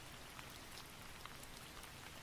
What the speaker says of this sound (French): 1 heure de pluie battante a coulé.